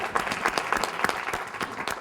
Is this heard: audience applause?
yes